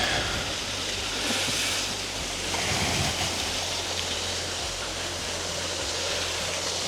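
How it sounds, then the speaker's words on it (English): A small waterfall, Blairskaith Linn, pours with a steady, dense rush of falling water, continuous and fairly close, with a faint low hum beneath. "There's a wee waterfall there."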